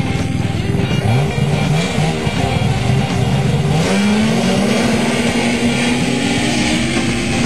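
A snowmobile accelerates hard in a grass drag race in Manitoba, with loud, continuous engine roar and climbing pitch sweeps as it speeds off and pulls away.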